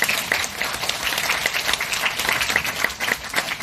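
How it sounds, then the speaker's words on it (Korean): An audience at a high school admissions briefing applauds to welcome the principal, a steady, close wash of many hands clapping with no talk over it. "큰 박수로 맞이해 주시기 바랍니다."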